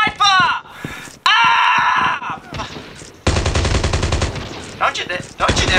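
Rapid automatic gunfire and sniper shots from COD Mobile free-for-all play ring out in loud, dense bursts, with a player's shouts and screams breaking in over the shooting.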